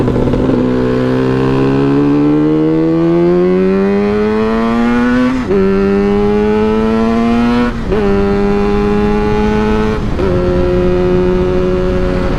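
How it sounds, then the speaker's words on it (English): A Yamaha R5C motorcycle engine running close and loud, its pitch climbing gradually and then holding steady with a few brief dips, and no other sounds over it. "Bike is running so freaking good right now, dude."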